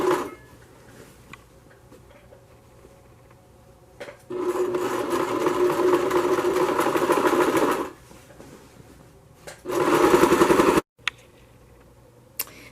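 A sewing machine runs a loose, non-backstitched seam along the first panel of a vintage circle skirt made from Simplicity pattern 8873. It plays one long steady burst of stitching, then a shorter one after a pause, with no talking.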